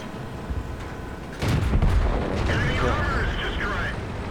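Tank cannon fire in a World of Tanks-style battle on the Erlenberg map, a T21 light tank in action: a heavy boom erupts mid-clip with rumbling aftermath and whining engine noise, under faint talk.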